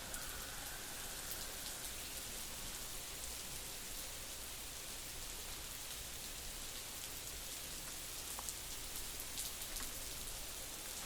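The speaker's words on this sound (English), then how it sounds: "we got this ambience rain bit" Ambient rain used in music production, a very faint, steady hiss of falling rain with dense pattering on surfaces and no other sounds.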